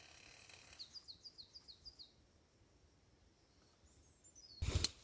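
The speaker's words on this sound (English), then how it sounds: "hearing the birds sing" A small bird sings a quick series of high, rising chirps at an outdoor bushcraft campsite, falls quiet, then calls again briefly before a soft thump.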